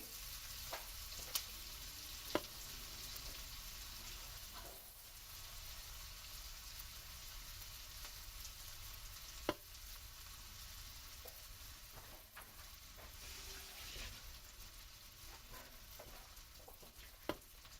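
Onion sautéing in a pan for a Marathi padval bhaji, a steady soft sizzle with occasional stirring clicks and scrapes, fairly faint and without talk.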